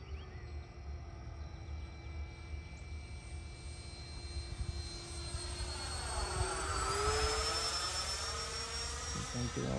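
Whining turbine of an FMS Yak 130 70mm electric ducted-fan RC jet flying in to land, a high, steady whine that rises and sweeps in pitch as the model passes close overhead.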